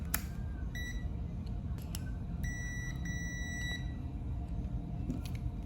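A multimeter in continuity mode gives several short, high electronic beeps, some single and one longer run, faint over a low background hum with no speech.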